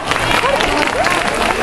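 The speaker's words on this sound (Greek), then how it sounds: "Ένα χειροκρότημα δυνατό." An audience at a children's magician and clown show on Leros claps in a dense, steady burst of applause mixed with crowd babble, with voices briefly audible over it.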